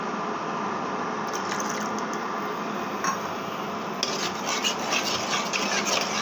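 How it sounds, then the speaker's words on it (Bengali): Spice paste for a fish curry being stirred and fried in a pan, a steady close sizzle with scraping and light ticking from the spoon, continuous throughout with no talking. "মশলাটা আমি ভালো করে কষিয়ে নিচ্ছি।"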